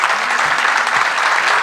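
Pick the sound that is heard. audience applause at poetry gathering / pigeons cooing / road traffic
audience applause at poetry gathering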